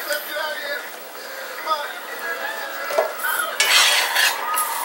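Dry fideo noodles drop into a pan with light metallic clinks and rattles, ending in a brief louder rustling clatter, close by while someone talks throughout.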